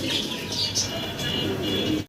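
Soft cooing from a pair of Black Lahori pigeons kept for sale, gentle repeated coos and a few brighter chirps over a low background hum, fairly faint and close by.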